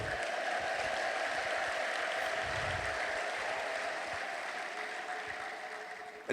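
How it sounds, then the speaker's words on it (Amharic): A church congregation applauds for the Lord in steady, dense clapping that holds for about six seconds, fairly distant and roomy, fading a little toward the end. "አጨብጭቡ ለጌታ ሃሌሉያ"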